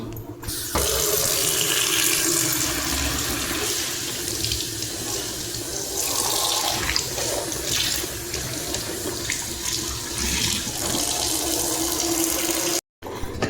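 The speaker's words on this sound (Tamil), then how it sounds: "இப்போ இந்த இலையை வந்து கழுவிக்கலாம்" Steady tap water runs close and loud as a cut banana leaf is washed at a sink, a continuous splashing stream with a brief pause near the end.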